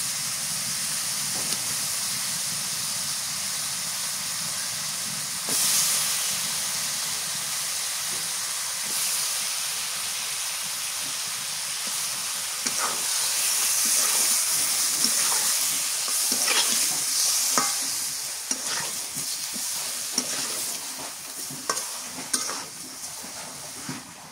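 Fish frying in a pan of cooked spice paste with cumin powder and salt, a loud continuous sizzle and hiss with scattered sharp crackles and spatters that build in the middle.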